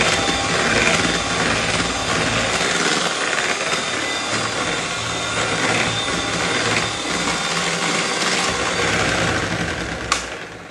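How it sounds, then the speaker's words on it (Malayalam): An electric beater whips ganache into chocolate mousse cream, giving a steady, close motor whir with a rattling, buzzing texture that runs continuously, ending in a brief clack. "നമുക്കിതൊന്ന് ജസ്റ്റ് ഒന്ന് ബീറ്റ് ചെയ്യാം"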